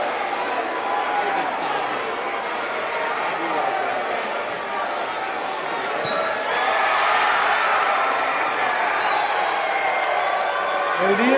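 Crowd at a state wrestling championship heavyweight match rising in cheers after a pin, a broad roar that builds and grows louder toward the end, with people talking over it.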